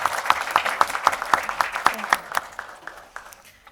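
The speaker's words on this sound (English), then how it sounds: "Can we give them a nice round of applause, everybody?" Applause from a small audience at a school district board meeting, a sparse run of distinct, sharp handclaps for a few seconds that fades out toward the end.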